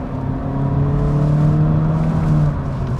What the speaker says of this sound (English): It's a 4-cylinder, it's gonna make noise